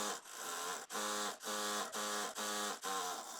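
Sewing machine stitching trouser fabric, a close, quiet, steady whirring hum that pulses in short regular cycles about every half second, with no talk.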